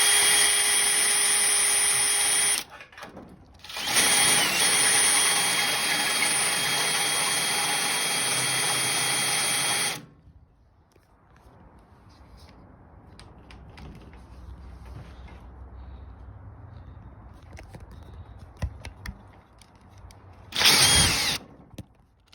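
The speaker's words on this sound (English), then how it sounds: "just gonna show a little trick for drilling through metal if you're not getting anywhere with your drill bit" A power drill bores through metal in loud, high whining bursts, pausing briefly and then running for several seconds. Quieter creaks and handling sounds follow, then one more short drill burst near the end.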